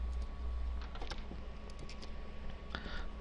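PHP code is typed on a computer keyboard, a quick run of close, light clicking keystrokes in uneven bursts over a low steady background hum.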